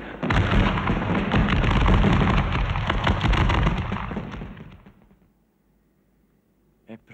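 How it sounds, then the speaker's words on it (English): Cannon bombards fire in a video game, a dense roar of overlapping blasts and explosions lasting several seconds before fading out, with a couple of sharp pops near the end. "E sparino pure le loro bombarde!"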